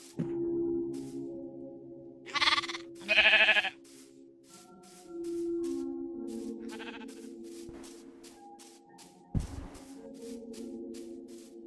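Sheep in the Minecraft video game bleat twice in quick succession, loud and close, over a steady backdrop of game music and soft tones.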